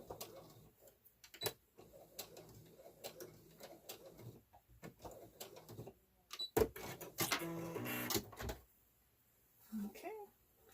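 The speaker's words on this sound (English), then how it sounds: "Now I'm going to sew down between the two lines and kind of help secure it in place." Sewing machine stitching down an apron strap between two lines, heard in short intermittent runs with a louder, denser burst near the end, alongside quiet handling noises and occasional talk.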